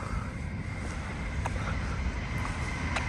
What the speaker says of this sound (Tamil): பாருங்கள், ட்ரெயின் போயிட்டுருக்கு.